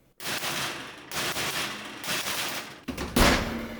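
Several loud metal bangs of a cookie sheet of baked chocolate chip cookies struck down on a counter, sharp broadband impacts with short gaps between them and no talking.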